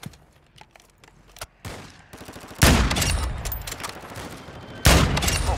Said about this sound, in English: Well, they're shooting back.